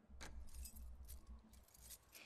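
Keys jangling in The Last of Us Part 2 video game, quiet metallic clinks and rattles in a few short bursts over a low hum, with no talk.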